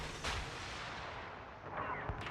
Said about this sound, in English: Tashkent's guns are pretty nasty.